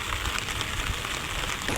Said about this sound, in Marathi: जरा जास्तीच पाऊस आले बघा कसला.